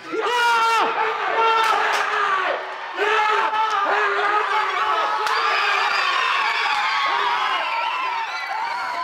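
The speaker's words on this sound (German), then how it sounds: "Jubel hinter der Bühne, Ziel erreicht, Platz 6 sicher, Riesenerfolg." Formation dancers and supporters cheer and whoop backstage at a German championship in Bremen, loud excited voices shouting together in a sustained close-up burst of jubilation.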